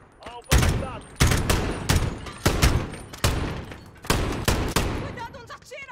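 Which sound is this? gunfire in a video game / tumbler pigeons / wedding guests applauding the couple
gunfire in a video game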